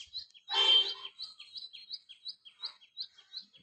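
A peahen calls in a village: one loud, harsh burst near the start, followed by a steady series of short, high chirps repeating in the background.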